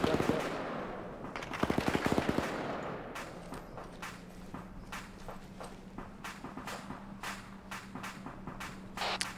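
Gunfire in a video game battle: a rapid volley of loud shots up front, then a steady run of sharp single reports spaced about half a second apart over a low hum, with voices talking now and then.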